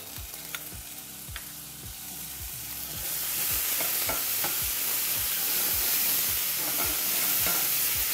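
Anchovy paste sautéing in olive oil for a spaghetti alla puttanesca sauce, with a steady sizzle that grows louder partway through and a spoon scraping the pan in a regular rhythm. No one speaks.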